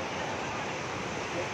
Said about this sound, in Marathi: हा बघा हा धबधबा